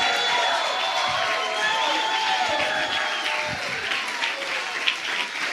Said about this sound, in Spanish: Si tú le vas a aplaudir, apláudele con todo al Señor.